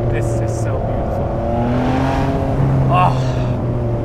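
A high-revving Ferrari 599 V12 engine screams to 8,500 RPM and holds its pitch, loud and close, with a voice briefly heard over it.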